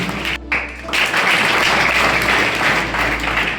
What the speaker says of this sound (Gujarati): જોરદાર તાળીઓના ગગડાટી બતાવી